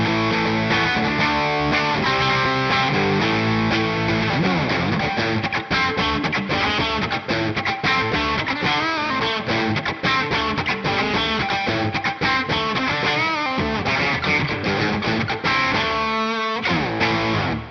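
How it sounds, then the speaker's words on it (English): Electric guitar, a Squier, played through an Axe FX amp model with overdrive boost, crunchy and overdriven, strummed chords and riffs ringing continuously at full volume. "I've also set up a super overdrive for this so that we can boost the amp into some crunchy territory."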